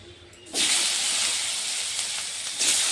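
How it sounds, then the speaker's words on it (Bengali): Parboiled potato and cauliflower pieces hit hot oil in a pan, bursting into a loud steady hiss that holds close and continuous, with a second surge of sizzling near the end. "আলু কপিগুলি আমি এখন ভেজে নেব"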